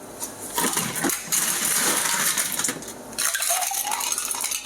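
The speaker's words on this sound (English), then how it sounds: "we'll start off with giving this a shake" Cocktail shaker rattling hard with ice while mixing a Pisco Sour, in loud rhythmic bursts with a brief pause, the clatter close and bright.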